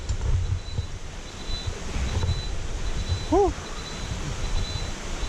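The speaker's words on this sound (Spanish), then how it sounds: "Cascada de Salto del Agua en el municipio de Naranjo." The Salto del Agua waterfall in Naranjo gives a steady, broad rushing roar, mixed with wind buffeting the microphone. A short whistling tone rises briefly partway through, and no one speaks.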